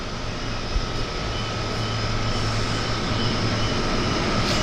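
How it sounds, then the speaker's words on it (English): A Turbo Otter aircraft at Vancouver Harbour's floatplane airport gives off a steady, droning engine hum with faint tonal whine, holding an even level throughout with no talk. "No, it's a turbo otter."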